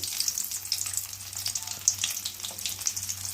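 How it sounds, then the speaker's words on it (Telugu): Stuffed okra pieces fry in hot oil in a kadai, giving a lively crackling sizzle with rapid spattering pops over a low steady hum and no voices. "కడాయి పెట్టి ఆయిల్ వేసి దీనిలో వేసి మనం బెండకాయ ముక్కల్ని ఫ్రై చేసుకోవాలండి"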